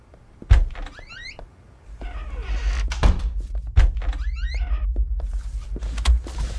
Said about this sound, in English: And close the door.